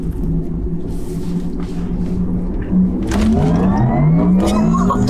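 Porsche Taycan Turbo electric car accelerating hard, a rising electric whine climbing in pitch over a low rumble of road noise, heard close from inside the cabin.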